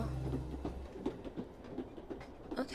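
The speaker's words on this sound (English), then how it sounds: "I love that the little worm drives the train." A worm-driven train in the game Frog Detective 3 rolls along with a low hum fading into soft rhythmic clicking, quiet and alone.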